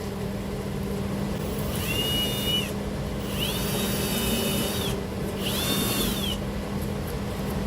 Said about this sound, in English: I'm gonna drill it back down through there.